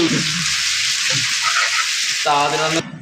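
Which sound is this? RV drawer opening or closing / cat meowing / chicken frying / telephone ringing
chicken frying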